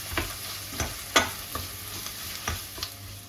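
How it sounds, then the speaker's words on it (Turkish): Tomato paste is sautéed in a pan for a Turkish meatball stew, with soft scraping stir strokes every half second or so over a faint, steady sizzle and no voices. "poğaçanın kokusu çıkıncaya kadar kavuracağız."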